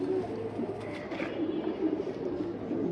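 Domestic pigeons coo softly and steadily nearby in a loft, a low continuous murmur of calls over about three seconds.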